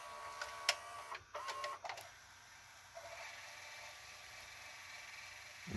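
JVC HR-S7600U VCR from 2000 fast-forwarding a tape: a faint, steady mechanical whir and hum with a few soft clicks and clunks near the start, heard close in a quiet room.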